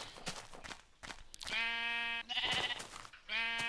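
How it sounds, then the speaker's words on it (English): Sheep in the Minecraft video game bleat in three quick, nasal, synthetic calls, overlapping with short clicks and hits from a sword, fairly loud and close. "So here I find some sheep, and I just kind of take them out with my sword to collect their wool."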